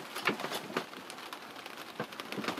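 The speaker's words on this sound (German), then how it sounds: "Und es regnet." Rain falls at an anchorage in a rocky bay, soft irregular patter and drips over a faint steady hiss, fairly quiet, with no speech.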